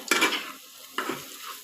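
Sesame paste being fried and stirred in a pan, with two short bursts of sizzle and scraping separated by a brief quiet gap, close and moderately soft.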